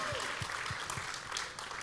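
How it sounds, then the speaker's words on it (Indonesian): A church congregation applauds in worship, producing a soft, sustained wash of clapping with a few low thumps recurring at a steady beat beneath it. "Berikan tepuk tangan yang paling meriah buat Tuhan kita"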